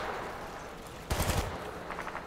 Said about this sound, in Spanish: Se escuchan perros los disparos de después.